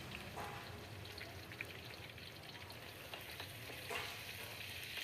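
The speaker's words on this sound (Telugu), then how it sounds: "కొద్దిసేపు వేగనిక ఎర్రగడ్డలు అయితే వేసి వేగించేద్దాము." Onions frying in hot oil with tempering spices for a potato dish, a dense steady sizzle and crackle close up with occasional louder pops, no talking.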